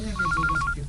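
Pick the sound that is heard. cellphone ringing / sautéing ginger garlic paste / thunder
cellphone ringing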